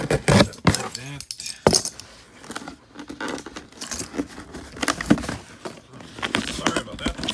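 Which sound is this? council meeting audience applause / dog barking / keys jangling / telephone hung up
keys jangling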